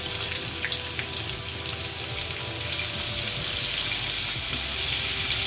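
Onions frying in oil after garlic, for chicken fried rice, making a continuous sizzling hiss with occasional crackles and faint stirring, steady and close with no voices.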